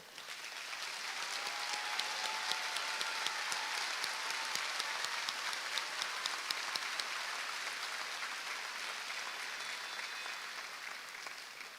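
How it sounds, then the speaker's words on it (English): Sustained applause from a large crowd at a high school graduation ceremony, dense steady clapping that holds at an even level throughout with no talking. "let's give them a round of applause as well"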